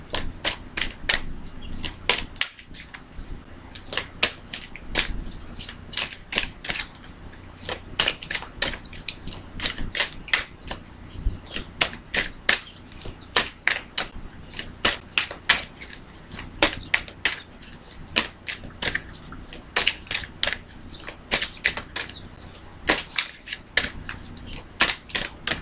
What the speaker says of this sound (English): So I'm going to go ahead and pick these cards now.